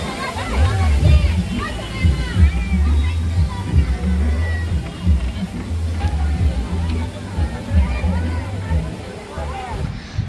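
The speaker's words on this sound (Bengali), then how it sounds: "তো জলের ওপর দিয়ে আমরা যাচ্ছি, জলটা পার করে তারপরে ওই মন্দিরটা।" People wade and slosh through water on the way into a Kali Puja pandal, the splashing close and continuous beneath loud chatter and crowd babble.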